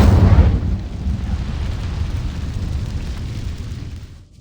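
An Incendio fire spell in Hogwarts Legacy ignites dry vines with a heavy, low whoosh. A loud burst comes first, then a rumbling roar of flames that slowly fades.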